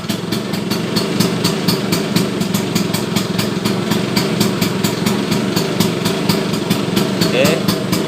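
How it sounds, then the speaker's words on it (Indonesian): A custom-built engine on a Vespa Super 66 scooter idles close and loud, with a steady, even throb of rapid regular pulses throughout. "Mesin sehat, custom dari Gempol Garage, punyanya Mas Gempol"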